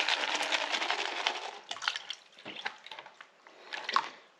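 Water sloshing and dripping in a gold pan while quarter-inch screened material is worked by hand, with a burst of splashing followed by scattered trickles and drips.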